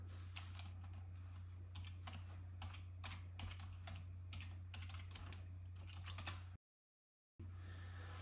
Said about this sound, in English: Type my password and I'm back in